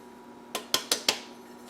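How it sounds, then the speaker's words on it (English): Four quick metallic clinks of a utensil against a mixing bowl while dry ingredients go into wet batter for a dairy-free pumpkin cake with chocolate chips. Sharp, close and evenly spaced, with a quiet room behind them. "I'm gonna mix the dry into the wet"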